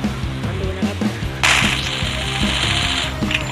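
MP40 submachine gun fire in the mobile shooter Free Fire Max: a sustained, loud, harsh burst of automatic fire that runs for about two seconds over steady in-game background music.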